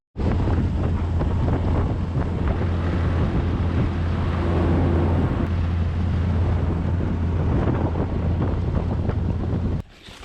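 Motorboat running a long way up a river on a windy day, a constant loud engine drone with a steady low hum under heavy wind buffeting on the microphone, cutting off abruptly at the end.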